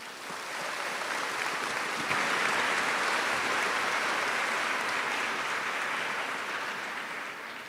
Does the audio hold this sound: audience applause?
yes